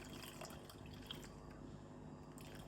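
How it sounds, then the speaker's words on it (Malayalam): Milk is poured into a kitchen vessel while making Japanese-style cold coffee: a soft, continuous liquid stream with light dripping, heard close up and alone. "അതിലേക്ക് പാലൊഴിക്കുക"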